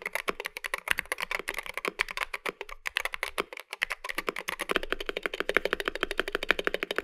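Rapid, steady typing on a stock Wooting 60HE mechanical keyboard heard up close, with crisp clacking keystrokes and brief pauses between bursts. No one speaks.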